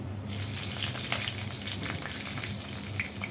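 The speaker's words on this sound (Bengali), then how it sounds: "এই যে আলুগুলো কালো জিরা ফোড়ন দিয়েছি কড়াইতে, কাঁচা লঙ্কাগুলো দিয়ে দিলাম" Potatoes, black cumin seeds and green chillies frying in oil in a wok, a sudden loud sizzle that starts as they drop in and continues as a steady, close crackling hiss.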